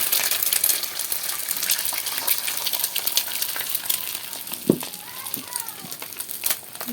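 An egg sizzling and spitting in a hot pan of oil for an egg curry, a bright crackling fry with a few sharp pops and light clinks near the end.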